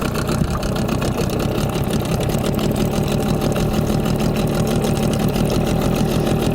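A two-stroke outboard motor running on cheap Lux Super two-stroke oil idles at trolling speed, a steady, continuous close-up drone with an even buzzing texture throughout, no talking.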